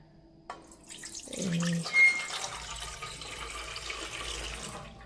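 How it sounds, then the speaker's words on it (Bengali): Water pours from a tap or vessel into a new idli steamer pot, a close, continuous splashing fill that rises in the middle and keeps running to the end. "এই পাত্রের মধ্যে আমি এখানে জল ঢেলে দিচ্ছি"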